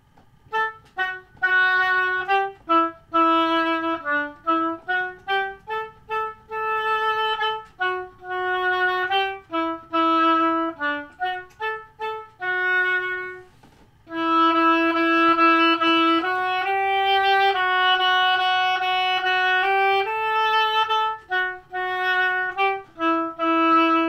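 Oboe plays the bass line of the children's tune Lightly Row, a slow run of separate, clearly tongued notes with short gaps between them, close and alone with no voice, the notes tapering at their ends.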